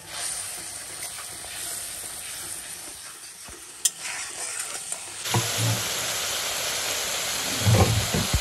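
Turmeric, chilli and black pepper powders sauté in oil in a pan with a soft, steady sizzle and a few sharp spatula clinks, then a louder hissing surge as stirring continues, close and without talk.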